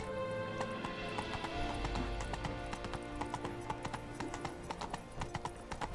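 A horse gallops in The Witcher 3, its hooves beating a fast, steady clip-clop rhythm close by for the whole stretch, with a brief whinny-like tone early on and no talk.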